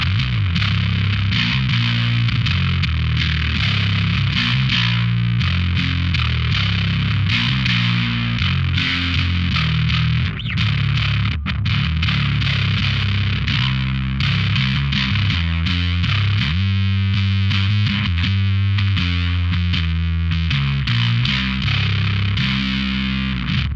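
Heavily fuzzed, distorted bass guitar through a fuzz pedal blended at about 35% and an amp plays a driving riff, thick and loud, with a full amplified low end throughout.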